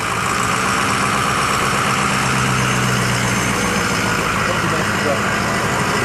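A truck idles steadily, ready to haul a trailer to the racetrack for a JDM engineering shop, its low rumble loud and continuous throughout with a dense broadband wash.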